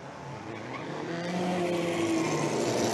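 Vintage racing cars at speed on a street circuit during a historic race, a dense continuous engine roar building steadily louder over the whole stretch with tyre noise mixed in.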